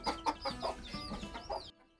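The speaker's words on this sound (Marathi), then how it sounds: "आणि ह्यात आहेत आपले काही पिल्ले" Chickens and young chicks clucking and calling on a farm, several close birds in an irregular burst of loud clucks and chirps over about two seconds before falling quiet.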